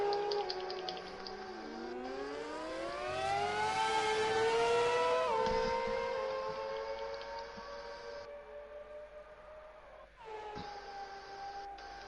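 Race cars on a formation lap in a racing game produce a smooth engine drone that climbs and swells in pitch, then eases back to a steadier hum, with a brief dip and shift near the end.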